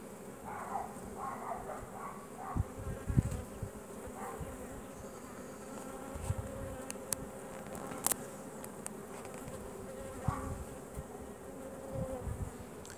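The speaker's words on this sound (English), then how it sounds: "These bees have been, actually in both hives I've inspected, have been really gentle today." Carniolan honey bees in an open hive give a steady, gentle buzzing hum, with occasional bees flying close and faint clicks of frames being handled, no talking.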